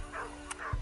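A hunting dog on a wild boar chase in snowy dense brush gives two short yelping barks, close and clear, followed by a low thump.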